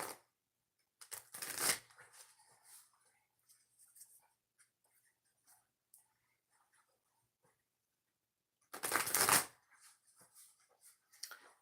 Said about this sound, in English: Two shuffles for viewers that are playing pick a card reading number 1.